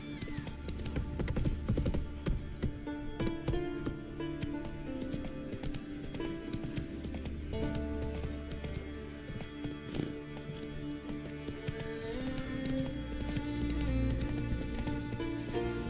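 Geralt's horse Roach gallops in Witcher 3, a steady rhythmic clip-clop of hooves running under a continuous orchestral music bed, moderately loud throughout with no pause.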